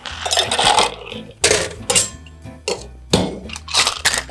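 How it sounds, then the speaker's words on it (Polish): Ice cubes are dropped into a cocktail shaker while a Fish House Punch is being mixed, landing in several loud, clattering bursts of clinks with short pauses between scoops. "Teraz oczywiście shaker uzupełniamy lodem."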